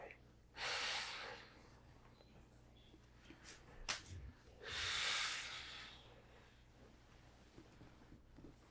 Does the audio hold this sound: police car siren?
no